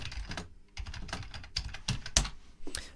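Quick, irregular clacking of a computer keyboard as someone types steadily, close and fairly quiet, with short pauses between bursts of keystrokes.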